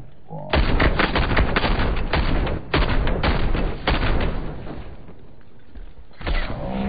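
Rapid, loud gunfire from Call of Duty: Modern Warfare III, close-range bursts of automatic shotgun fire, with dense repeated blasts in several runs separated by brief pauses.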